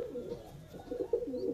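A female pigeon in a loft coos in low, throaty, rolling notes, a few quick pulses close by and fairly quiet, with no talk over it.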